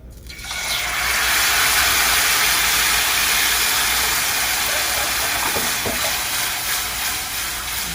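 Red wine demi-glace hits a hot pan of wood ear and shiitake mushrooms with a loud, sustained hissing sizzle that surges in after a brief quiet start and holds steady, with no talking.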